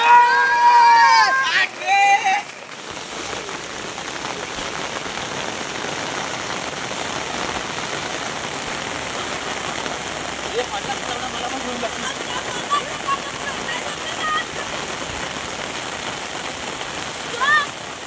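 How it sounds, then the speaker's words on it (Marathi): Heavy rain pours steadily at a dam, a dense continuous hiss of water that stays even throughout, with a brief burst of voices and singing at the very start before the rain alone carries on. "पाऊस जातोय काय पण नाही"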